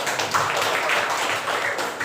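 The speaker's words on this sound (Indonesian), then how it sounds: "Beri tepuk tangan untuk kita semua." Classroom applause as students clap their hands together, a dense, steady patter of many hands lasting a couple of seconds, moderately loud and close, with no talking over it.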